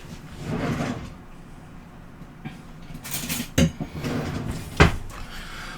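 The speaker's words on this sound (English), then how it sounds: "let me go ahead and grab a fork real quick" Cutlery rattles and a kitchen drawer slides and clunks as a fork is grabbed, with a few sharp metallic clinks and knocks standing out near the end, moderately close with no talking.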